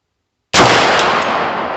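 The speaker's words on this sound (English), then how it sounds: "Let's see where this next shot hits." A single loud gunshot from a .350 Legend rifle with a standard GI trigger cracks at an outdoor shooting range in Eastern Kentucky after a silent pause, then rings out with a long fading tail.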